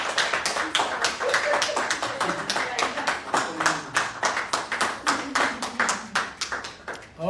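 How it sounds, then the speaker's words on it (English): A smaller audience at a book tour event in Geneva claps in distinct, fairly rhythmic individual hand claps, a sparse pattern with some voices murmuring underneath as it gradually fades. "Come on, if I did well, give me a clap."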